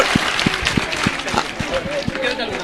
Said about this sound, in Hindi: एक बार जोरदार तालियां श्री हुकुम जी काका के लिए स्पेशली।